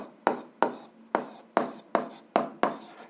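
Chalk or marker strokes on a board during an algebra lesson, seven quick scratchy strokes in an uneven rhythm, each sharp at the start and fading, close by with no talking.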